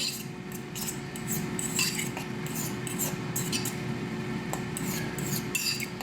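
Cutlery scraping and rubbing in a bowl while tartar sauce is mixed, a steady close run of light clinks and rasping strokes with no talk.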